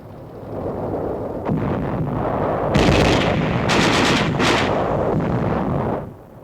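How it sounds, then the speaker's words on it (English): Small arms and mortar fire in 1945 wartime combat, a loud continuous roar of crackling gunfire and booming blasts, with several sharp bursts standing out in the middle, recorded on old film sound. "Enemy small arms and mortar fire is encountered by the Australians"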